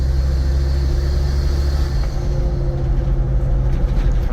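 Steady low engine drone from a 1991 Mercedes-Benz 250GD Wolf diesel off-roader while driving, a constant rumble inside the cabin with no talking.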